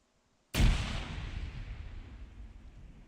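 A single grenade blast from a live throw during military combat training: silence, then one sharp, heavy boom with a long rolling decay fading over a couple of seconds, heard at moderate distance.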